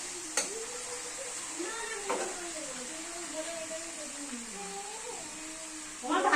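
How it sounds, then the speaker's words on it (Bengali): An aunt cooks in a home kitchen, stirring food frying in oil. A spoon scrapes and clinks against the pan in repeated strokes over a faint steady sizzle, and a voice briefly speaks nearby. "কাকিমা রান্না করছে, তেল পোটা রান্না করছে"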